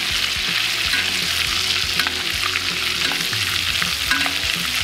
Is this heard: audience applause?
no